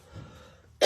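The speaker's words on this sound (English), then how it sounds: "Excuse me, I don't mean to cough in your face." A single sharp cough, loud and close, coming abruptly after a brief murmur of low background sound.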